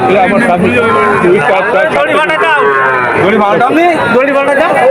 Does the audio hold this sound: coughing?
no